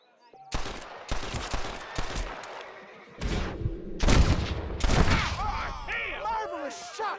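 Sharp, loud gunshots crack out in a Red Dead Redemption shootout, several separate blasts with echoing tails. Voices shout between and after the shots.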